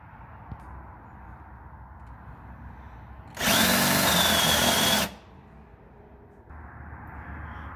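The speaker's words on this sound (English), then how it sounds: "Using your 16mm spade bit, drill a hole slightly deeper than your axle backer lug." A battery drill with a 16mm spade bit bores a hole in a single loud burst of about two seconds of whining, grinding drilling, set against a steady background hum.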